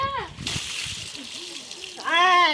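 Water is tipped out and splashes in a burst at a household comedy skit, with excited children's and adults' voices shouting around it before and after the splash.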